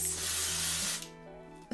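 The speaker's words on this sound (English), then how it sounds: "Now, the next product that we are gonna add is some dry shampoo. We are going to spray some of this at the roots." A can of dry shampoo sprays at the hair roots: one close, continuous aerosol hiss of about a second, then it stops into quiet handling noise.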